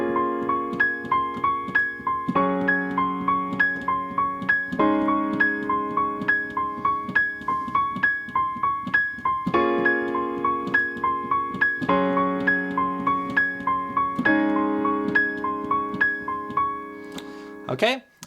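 Piano plays the chorus of a song with both hands, left-hand chords under a repeating right-hand pattern, steady and close for about eighteen seconds before ending with a brief knock.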